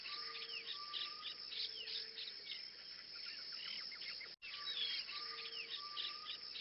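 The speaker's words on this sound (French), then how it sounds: "Des oiseaux chantent doucement." Soft birdsong in a tropical garden, with steady chirps and whistled phrases over a constant insect-like trill, gentle and continuous throughout except for one brief dropout.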